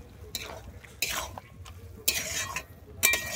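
A spoon scrapes and stirs crumbled fried lentil dumplings through a drumstick-flower stir-fry in a pan, four distinct scraping strokes roughly a second apart over a soft background sizzle, close and without talk.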